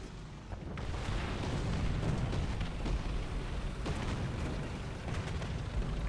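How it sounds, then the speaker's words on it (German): Rumbling booms of artillery in the tank combat game War Thunder, a continuous dense roar of low explosions with sharper blasts scattered through, loud and steady throughout. "Ist auch schwer auszumachen, wessen Artillerie das hier ist. Hier knallt ja alles durch die Gegend mittlerweile."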